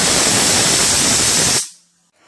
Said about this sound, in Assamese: এয়া চাওক, কুকাৰৰ পৰা গেছখিনি নিজে নিজে গুচি গৈছে